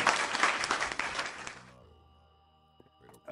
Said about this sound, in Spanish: un aplauso porque eso después se derribó